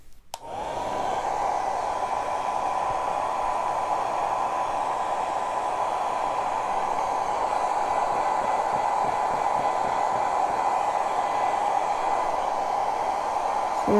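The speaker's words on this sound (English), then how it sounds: "So let me blow dry this." A hair dryer blows on a painted jar, switching on with a click and then running as a loud, steady, close whoosh with a constant whine for the whole stretch.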